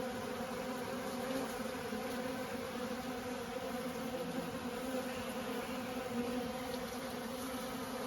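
A dense, continuous buzzing of many honeybees fighting near a feeder, a steady droning hum with no pauses.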